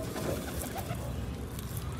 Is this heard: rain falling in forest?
no